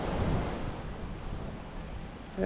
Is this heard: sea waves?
yes